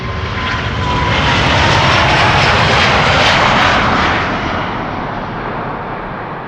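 A jet aircraft departing the Polderbaan runway at Amsterdam Schiphol roars loudly and close, its engine noise swelling to a peak midway and then fading slightly as it passes, with no speech.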